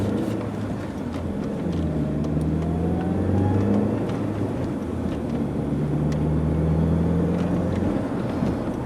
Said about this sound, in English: I'm just going to drive nice and normally up to about 55 miles an hour.